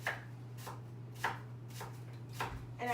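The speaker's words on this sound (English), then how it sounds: "we're just gonna start chopping them about quarter-inch thick" A knife chops an onion into quarter-inch slices on a cutting board, five or six close, evenly spaced thuds over a faint steady hum.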